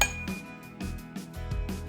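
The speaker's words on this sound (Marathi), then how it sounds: "मी लसूण आणि अद्रक टाकून घेत आहे आणि याला जाडसर असंच कुटून घेणार आहे" Pounding garlic and ginger coarsely with a pestle in a mortar: five dull knocks with a faint metallic clink, in a slow, uneven rhythm.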